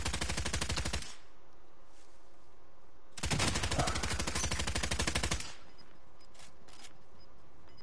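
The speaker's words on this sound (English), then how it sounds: "You shooting at there, lads?" Rapid automatic gunfire in a video game comes in two long bursts of evenly spaced shots, loud and close, separated by a quieter pause with faint background sounds.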